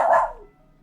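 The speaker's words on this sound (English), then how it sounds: "Who are you barking at?" A single sharp bark from a pet dog indoors, close and loud, fading quickly into quiet.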